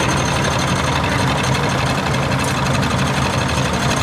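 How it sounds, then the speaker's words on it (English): A 1954 Farmall Super MPA tractor engine runs steadily at a tractor show, a continuous loud mechanical drone with a dense, even rumble throughout. "1954 Farmall Super MPA, Bill and Sherry Brooks, driven by Ben Engel, Trout Run, Pennsylvania."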